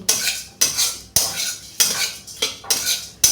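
Oats dry roast in a pan with no oil while a spatula scrapes across the metal in about six brisk, evenly spaced strokes, loud and close with no one speaking.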